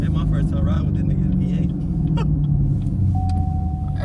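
A Chevrolet Camaro SS V8 gives a loud, deep engine rumble heard from inside the car, steady and throaty throughout, while voices talk over it.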